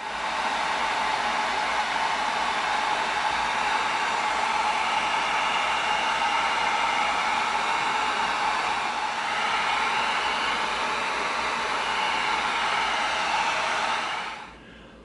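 A heat gun blowing steadily at close range to shrink and tighten the seams of an EVA foam blunderbuss prop, a continuous broadband hiss with a faint whine that runs unbroken for about fourteen seconds before switching off.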